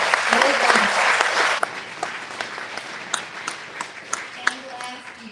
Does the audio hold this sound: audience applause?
yes